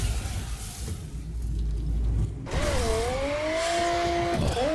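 A car in the racing video game The Crew drives hard, its engine roaring steadily before tires squeal in long, wavering skids.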